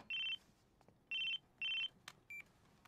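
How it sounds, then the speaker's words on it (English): A cell phone rings in a Hunter x Hunter anime episode, sounding three bright electronic trill bursts followed by a short beep against a quiet background. "That phone, though, that Leorio got him."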